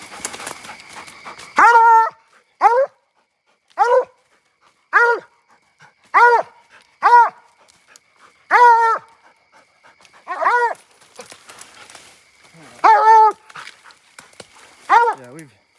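A hunting hound barks at night outdoors in Iowa, with about a dozen loud, close, evenly spaced single barks and faint panting and rustling in between.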